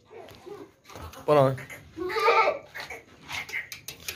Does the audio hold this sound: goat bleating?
yes